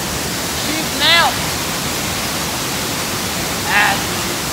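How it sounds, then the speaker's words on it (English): Bard Falls, a mountain waterfall in North Carolina, roars as a dense, steady wash of rushing water from start to end, with two short voices briefly audible over it. "The water's like shooting out."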